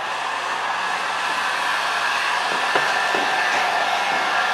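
A heat gun warming carbon fiber vinyl wrap on a car hood before it is peeled off, producing a steady loud blowing whine that runs continuously with a few faint clicks.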